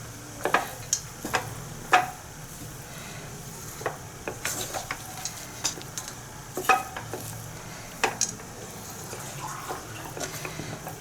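Ghee rice mixed in a pot, a run of scattered spoon clinks and scrapes against metal over a faint background sizzle, close by with uneven pauses between strokes.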